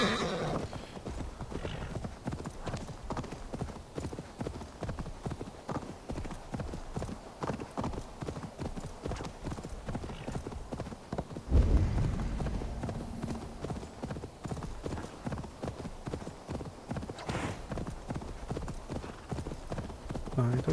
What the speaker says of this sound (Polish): Dobra, na koń i spadamy stąd.